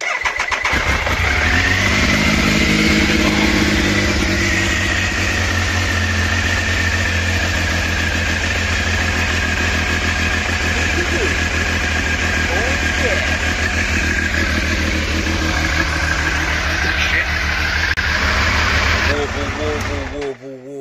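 A Triumph Speed Triple 955i motorcycle engine cranks, fires and settles into a loud, close, lumpy warbling idle that runs steadily until it cuts off near the end, with people talking over it.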